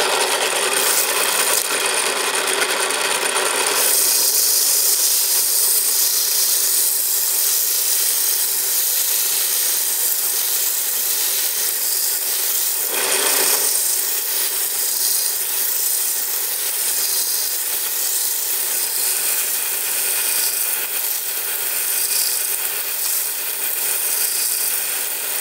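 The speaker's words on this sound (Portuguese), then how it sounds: "você pega uma lixa na largura da sua polia e dá o acabamento" Sandpaper sized to the groove width rubs steadily against a spinning homemade grooved pulley, producing a loud, continuous hissing rasp up close, with one brief change in texture partway through.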